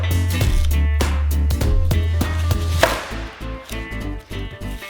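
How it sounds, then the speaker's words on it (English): Knife chopping an onion into wide rings on a cutting board, a series of close, sharp knocks in steady rhythm over a low hum, with no talking. "Now cut it into wide rings."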